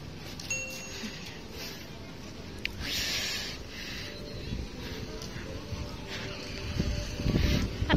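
Strong gusts rumble against the microphone in low buffeting bursts, rising toward the end, with speech faintly present underneath, at the Pondok Rangon river overflow area.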